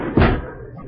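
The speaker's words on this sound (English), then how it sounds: "I'll close this door." A door swings shut as a radio comedy sound effect, one heavy thud followed by a short muffled decay, close and loud with no talking.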